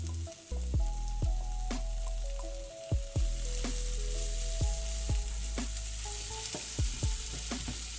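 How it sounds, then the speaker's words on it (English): Onions frying in butter in a pan, a steady bright sizzle running throughout beneath louder plucked, melodic background music with soft percussive hits. "we begin with cooking our onions. Put the butter in."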